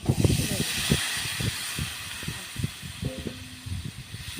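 Water poured into a hot pan of mustard and cumin sets off a broad hissing sizzle that stays steady under someone talking in bursts, with a few clinks of utensils near the end.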